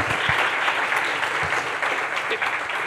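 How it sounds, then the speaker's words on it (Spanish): Audience applause at a CADE 2024 conference session, sustained dense clapping from a large seated crowd, steady and loud throughout. "para quien pide un fuerte aplauso, por favor"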